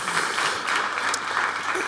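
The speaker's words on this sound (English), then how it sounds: "Big round of applause for that." Audience clapping fills a large conference hall at a sports industry forum, a steady, dense round of applause sustained throughout with no pauses, loud and close.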